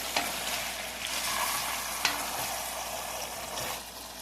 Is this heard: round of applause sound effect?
no